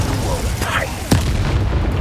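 A Confringo blasting spell in Hogwarts Legacy goes off with a sharp, loud boom about midway, then a rumbling tail, set against ongoing combat noise and a shouting voice.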